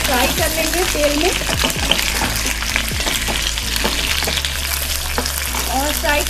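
Round potatoes frying in oil in a pan, a loud close crackling sizzle with clinks of a utensil, while someone talks over it in places.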